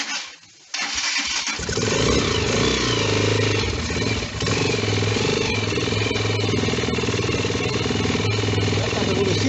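A small motorcycle engine cranks and fires after a brief quiet moment, then settles into a loud, steady running drone with a rough, buzzy tone that continues throughout.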